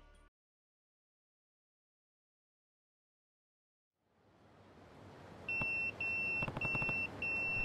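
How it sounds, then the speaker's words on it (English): A pager in a Yakuza video game sounds a repeating run of shrill electronic beeps in a steady on-off rhythm over a rising wash of background game noise, after a long silent gap. "That's my beeper."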